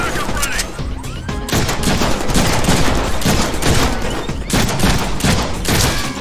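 Dense, continuous gunfire from the Deadpool video game, with rapid overlapping shots and booms loud and close throughout the whole stretch, mixed with game sound effects and no clear talk over it.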